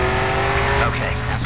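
A race car in Grid 2 speeds through a residential area with a loud sustained engine drone and a brief tire squeal, while a voice talks over it.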